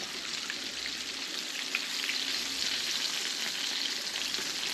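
Chicken pieces fry in a small pot of hot oil, giving a steady, dense sizzle and crackle that holds evenly throughout with no talking.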